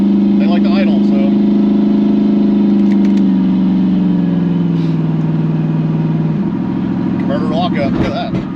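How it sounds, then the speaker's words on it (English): A Camaro engine idles at a lowered idle with newer fuel injectors, a steady close mechanical drone that dips slightly in pitch partway through, with brief higher clatter at start and end. "Lowered the idle a little bit because those old injectors wouldn't idle at all"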